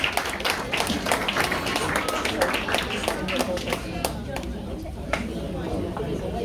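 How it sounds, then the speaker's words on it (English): Scattered clapping from an audience at an International Women's Day event, a mix of individual claps over murmuring voices, thinning out toward the end. "A round of applause for Mr. Peter Russo, please."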